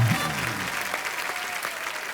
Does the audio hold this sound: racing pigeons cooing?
no